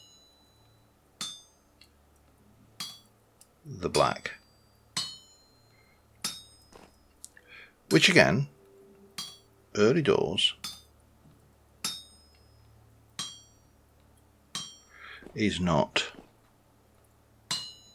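A metal bloom is hammered at an anvil in the video game Vintage Story: sharp metallic clinks strike one after another at an irregular pace, with someone talking between and over the blows.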